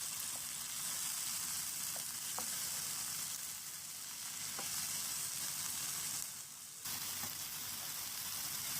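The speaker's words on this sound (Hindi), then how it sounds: "अब इसमें टमाटर ऐड करेंगे, मिक्स करेंगे।" Tomatoes sizzling in a hot frying pan, a steady close hiss of frying with light stirring throughout and no talk.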